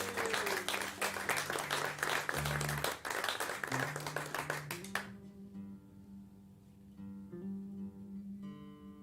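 A live audience claps for the tech crew at an intimate music show, dense applause for about five seconds that then fades out, leaving a held low instrument tone underneath.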